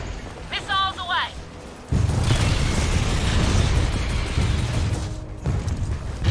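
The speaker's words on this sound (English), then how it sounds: "Missiles away!" Missile launches and explosions in Gears of War 4 gameplay, a brief mechanical whir and chirps giving way to a sudden loud, sustained rumbling blast that runs several seconds before fading and surging again, with a voice talking over it.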